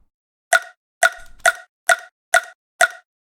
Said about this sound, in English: That sound? The pluck.